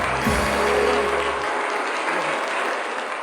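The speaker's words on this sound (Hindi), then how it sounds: "गरीब लोग ऐसी तालियां बजाते हैं।" A studio audience on a late-night talk show claps steadily and densely for the full stretch, loud and close, with no one speaking over it.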